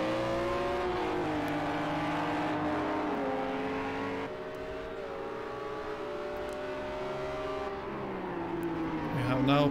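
GT3 race cars at Fuji in Project CARS 2, engines droning and shifting pitch as an Audi brakes into the first turn, a continuous loud roar with changing tones while a commentator talks over it.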